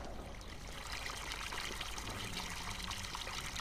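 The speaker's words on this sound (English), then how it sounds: "And we got our water. Got a couple of fountains." Fountain water trickles and splashes steadily in Farming Simulator 19 on an Alpine map, a continuous soft rush of running water with no break or talk over it.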